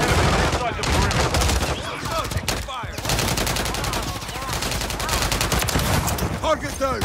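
Dense, continuous gunfire from the video game Call of Duty, with bursts of automatic fire and rapid overlapping shots that stay loud and close for the whole stretch.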